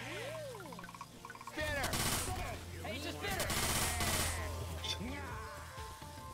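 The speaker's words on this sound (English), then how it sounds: "I shoot in the legs." Gunfire rattles in a modded Left 4 Dead 2 co-op session, bursts of shots over game music and chirpy effects while players chatter over it.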